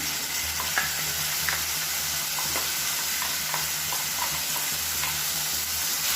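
Chopped onion and coarsely pulsed tomato sauté in a pan for a chutney, giving a steady close sizzle broken by scattered light scrapes and taps of a stirring spoon, with no talking.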